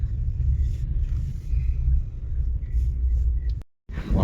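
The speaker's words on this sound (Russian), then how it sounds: "прям ледяной ветер" Strong cold wind on a chilly seaside street in Vityazevo, a heavy low roar and rumble of gusts buffeting the microphone, continuous and loud, cutting out briefly near the end before picking back up.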